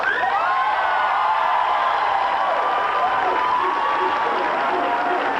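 Applause from a studio audience at a 1990s daytime talk show keeps up a steady roar of clapping throughout, mixed with crowd voices and cheering.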